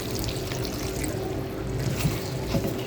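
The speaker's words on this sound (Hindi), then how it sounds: "तो अभी इसको पकाने के लिए थोड़ा सा पानी ऐड करेंगे" Water is poured into a pan of lightly fried potatoes, a steady close trickle and splash with sizzling underneath, continuous and fairly loud throughout.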